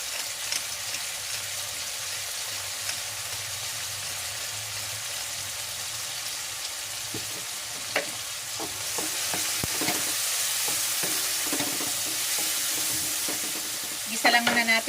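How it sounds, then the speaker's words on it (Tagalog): Steady sizzling of a Filipino ginisang monggo base sautéing in a pan, seasoned with fish sauce and ground black pepper, with scattered utensil scrapes and clatters that grow busier toward the end. "Gisa lang muna natin."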